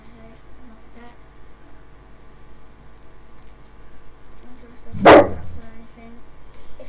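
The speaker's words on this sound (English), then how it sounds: "our dog just barked" A pet dog gives one loud, sharp bark close to the microphone. It cuts through quiet background noise during a game of Unturned.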